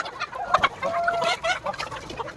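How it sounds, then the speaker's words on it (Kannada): Native chickens on a poultry farm cluck in short, overlapping calls, close and moderately loud. "ನಮ್ಮಲ್ಲಿ 1000 ನಾಟಿ ಕೋಳಿ ಇದೆ."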